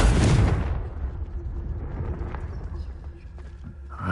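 A Confringo fire-blast spell explodes in Hogwarts Legacy: a loud, broad burst hits at once and then rumbles and fades over a few seconds, with faint game sounds behind it.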